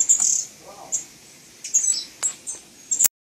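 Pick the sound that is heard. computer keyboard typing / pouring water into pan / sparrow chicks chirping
sparrow chicks chirping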